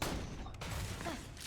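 Twister shotgun from Borderlands 2, a powerful explosive splash-damage weapon, fires in a dense sustained burst of blasts, loud and continuous with no pauses.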